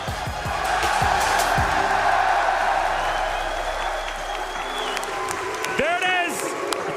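An arena crowd at an esports major semifinal applauds and cheers for the grand finalists, a sustained wash of clapping and crowd noise with a voice and some electronic tones over it.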